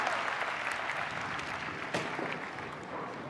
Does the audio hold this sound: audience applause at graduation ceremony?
yes